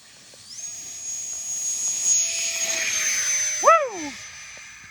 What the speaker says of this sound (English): this is the Habu jet with the AR-10